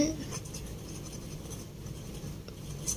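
Chalk or marker scratches across a board during an accounting lesson on manufacturing concerns, a soft continuous scraping heard up close beneath a person talking.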